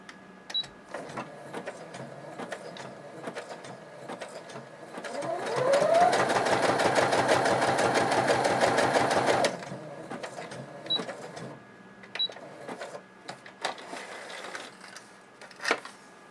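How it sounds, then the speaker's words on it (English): Domestic sewing machine running a zigzag stitch, a loud, fast steady mechanical chatter lasting about four seconds in the middle, with quiet handling clicks and small taps before and after. "I'm going to change this to number 4, which is the zigzag stitch"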